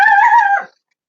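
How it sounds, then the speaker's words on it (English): A dog gives a single drawn-out, tonal bark or yelp, loud and close, lasting about half a second before cutting off into silence. "He barks at anything that moves"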